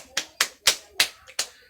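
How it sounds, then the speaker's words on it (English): A handful of separate hand claps from students in a classroom during a micro-teaching lesson, five sharp, close claps spaced unevenly, with no voices. "Please give an applause for all of you."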